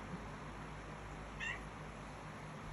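A single short cat meow, faint and somewhat distant, over a steady background hiss.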